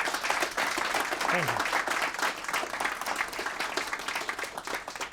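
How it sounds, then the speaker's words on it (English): An audience gives a speaker a steady round of applause at a startup talk, dense clapping filling the room throughout, with a brief voice heard over it. "Could I please have a round of applause for Nikolas?"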